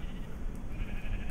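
Sheep bleating in Minecraft: a faint, short bleat over a low, steady background hum, with no speech heard.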